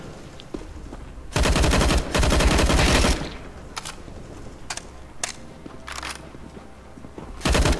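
Bursts of automatic gunfire from a CS:GO shootout, with two long loud sustained volleys early on, then scattered shorter bursts and a final loud burst at the end, close and heavy.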